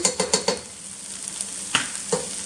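Tomato paste is worked into a sizzling sloppy joe meat mixture, with a quick run of rhythmic spoon scrapes and taps on the pot, then two more separate strokes over a steady low sizzle.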